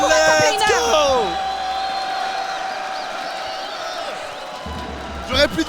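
Crowd at a live esports League of Legends event applauding and cheering for a top laner, a broad wash of clapping and whoops with an announcer's voice ringing over it at the start.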